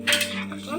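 Ground spices, chili paste and onion paste stirred in a metal pot for a Bengali village-style rohu fish curry: a brief clink and scrape of a spoon against the pot, close by.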